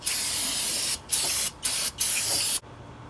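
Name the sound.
brake cleaner spray on differential mating surface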